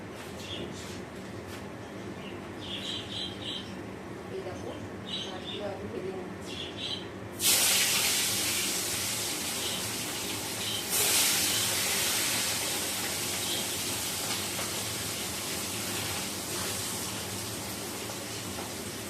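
Fish pieces rubbed with salt and turmeric hit hot oil with an abrupt, loud sizzling hiss that keeps up steadily, swelling again partway through, while a person talks over the frying.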